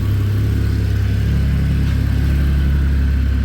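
Toyota Supra with a 7M-GTE engine running nearby, a loud, steady, low rumbling idle with a slight lift in pitch partway through.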